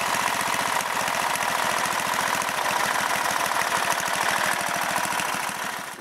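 A small tractor engine fitted with a snorkel chugs steadily at close range, a rapid, even knocking rhythm that holds for several seconds before easing slightly at the end.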